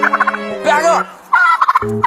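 Several turkeys in a flock gobble close by in loud, rapid rattling bursts, one call overlapping another, with a brief quieter gap in the middle before more gobbling resumes.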